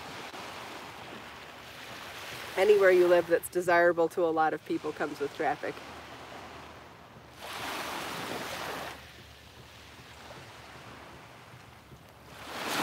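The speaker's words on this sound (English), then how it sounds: "it's still something to hear the waves live, in a live stream" Ocean surf washes onto a beach in a soft, broad swell that rises for a couple of seconds and then recedes, with a person talking just before it.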